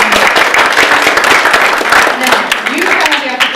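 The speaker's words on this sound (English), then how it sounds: "I would like to just give a round of applause as a thank you" An audience at an Indiana event claps as a thank-you to the audio helper. The applause is close and loud, a dense patter of individual claps that continues throughout with voices mixed in.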